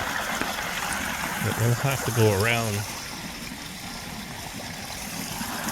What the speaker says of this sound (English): So I think the better way to get the flow rate is from that little waterfall up here.